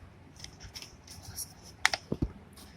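A sheet of paper is creased and folded for a napkin fold card, with soft rustling followed by a few sharp crisp snaps and thumps close by, heard alone.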